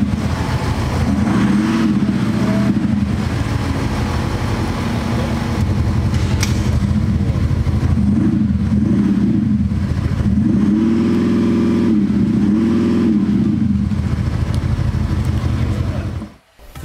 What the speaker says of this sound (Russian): У нас 313-330-сильный дизель вообще был с динамиком в выхлопной системе.